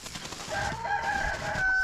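A Brahma hen makes a short burst of clucking and throaty calls, close and moderately loud against faint outdoor background.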